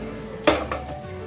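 A metal utensil clanks against a pan as ingredients are sautéed, with one sharp scrape and then a softer second knock over a low, steady background hum.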